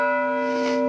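A single church bell tolls at a memorial for students and teachers killed, one clear sustained ring with a long ringing tone.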